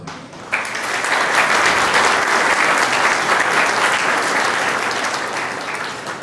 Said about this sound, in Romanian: Și pentru asta vă rog să aplaudați.